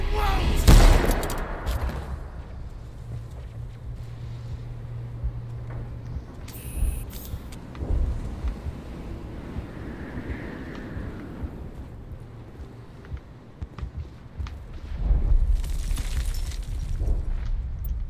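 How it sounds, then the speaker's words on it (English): Explosions and deep rumbling from the Mass Effect video game, with a heavy low boom near the start, then a sustained low rumble and scattered blasts building again toward the end. The battle atmosphere runs under faint voices. "It has the atmosphere, the explosions and the rumbling and stuff"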